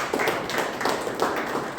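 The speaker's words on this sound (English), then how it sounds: "a round of applause to distinguished Toastmasters" A small group claps at a Toastmasters meeting, a steady patter of hand claps at moderate volume with no talking over it.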